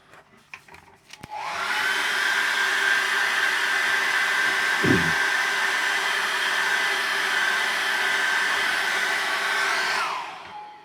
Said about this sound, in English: let's get that dried with a hairdryer